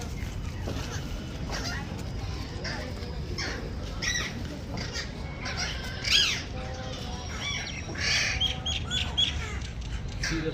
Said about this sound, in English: A lot of parrots here.